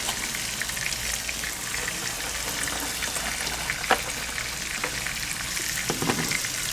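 Red onions fry in a cast iron skillet on an outdoor grill beside a ribeye steak, giving a loud, steady sizzle with scattered pops and a few clinks of stirring, and no speech.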